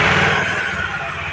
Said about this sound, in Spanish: vamos a poner en marcha la moto